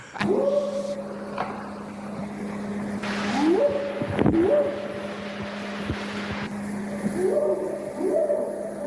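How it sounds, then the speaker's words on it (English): Eerie howling recorded in the woods at night: a few rising, wavering wails come in separate bursts over a steady low droning hum, moderately loud and somewhat distant. "Like already the howling's creepy enough."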